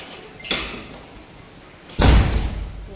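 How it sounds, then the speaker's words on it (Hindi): A household door closes with a light knock, then a heavier thud of a slam a moment later, both close by over quiet room noise. "मैं दरवाजे वगैरह सब बंद कर देती हूँ।"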